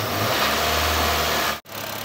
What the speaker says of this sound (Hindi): अब फिर से एक बार कैप लगा के अब एक बार इंजन को कर देंगे हम स्टार्ट।